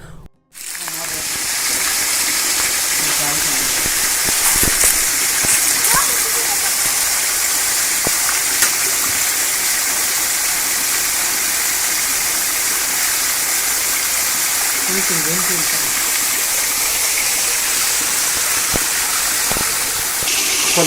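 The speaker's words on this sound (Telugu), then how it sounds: "కింద నుంచి వాటర్ జలపాతం వస్తుంది కదా" A waterfall pours down beside a tribal village, a steady, close broadband roar of rushing water that holds constant and loud from start to finish.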